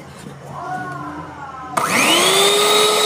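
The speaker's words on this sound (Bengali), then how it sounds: "ভালো করে আবার একটু ফেটিয়ে নেব।" An electric beater whisks egg yolks and refined oil for strawberry cake batter. A soft motor hum starts first, then the beater kicks up to a loud, high, steady whine that runs to the end.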